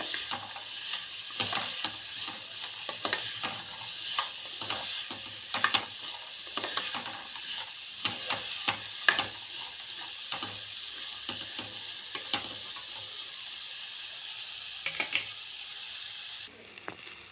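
Okra sizzles steadily in a hot nonstick pan while a utensil scrapes and clacks through it in repeated stirring strokes; the frying hiss cuts off near the end.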